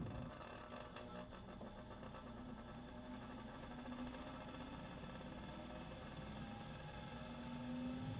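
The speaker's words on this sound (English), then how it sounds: "When the test tubes inside aren't evenly distributed, the centrifuge is unbalanced." An unbalanced laboratory centrifuge, loaded with unevenly spaced test tubes, drones and vibrates in a steady, continuous hum with a faint rattle, close and unbroken, with no voices.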